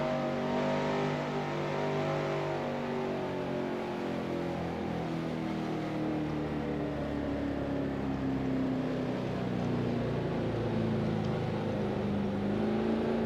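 Stock car engines drone in the NASCAR Racing 2003 game during a 1992 Winston Cup race at Dover, a loud, continuous layered roar from a pack of cars with rising and shifting engine tones.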